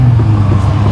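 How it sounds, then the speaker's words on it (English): An Aston Martin DBX SUV rolls slowly past at a corner, its engine giving a steady, loud low rumble throughout, with no talking. "He said he wants to take a video of us driving by him slowly"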